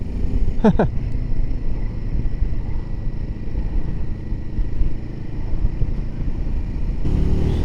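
A Royal Enfield Himalayan 450, a 40-horsepower 450 cc motorcycle, rumbles steadily while riding with wind noise, a brief sharp mechanical blip early on as it shifts into second gear.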